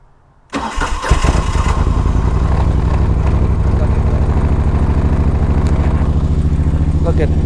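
A Moto Guzzi motorcycle engine being cranked on the starter, a sudden loud onset followed by a steady, rapid mechanical churning that continues close-up and unbroken for several seconds.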